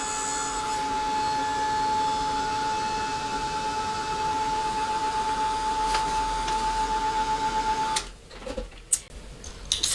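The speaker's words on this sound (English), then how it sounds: "So I'm going to hit it with my little heat gun." A small heat gun blows steadily with a constant whir and thin whine while drying tole paint, then cuts off, followed by a few faint handling clicks and taps.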